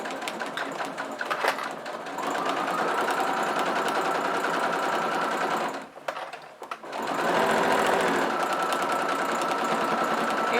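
Domestic sewing machine stitching a fabric pyramid pouch, a steady close whirring run, a brief pause near the middle, then the machine resumes at the same pace with no talking.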